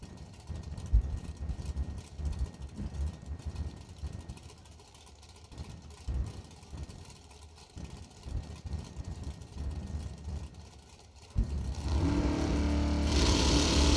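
A 1963 Corvette Roadster drag racing car rumbles and revs at a track, with uneven engine bursts, then a louder, sustained roar swells near the end.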